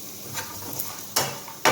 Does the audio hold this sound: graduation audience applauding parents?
no